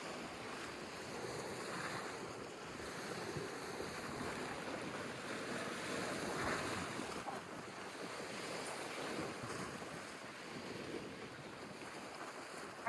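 Waves breaking along the Dead Sea shore, a continuous wash of surf mixed with gusty wind buffeting the microphone, rising and falling at moderate distance with no voices.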